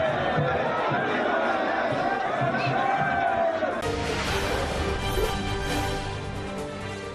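A large crowd of pilgrims fills the Char Dham yatra walking route with a dense, continuous roar of voices and chatter, steady and loud throughout.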